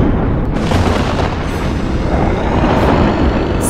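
Cartoon lightning strike and volcano eruption, a loud dense rumbling blast that roars continuously for several seconds with a few sharper cracks.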